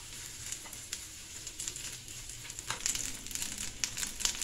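Garlic and chilli frying in olive oil in a pan, a soft steady sizzle with scattered crackles and pops that grow a little busier toward the end, heard close with no talk.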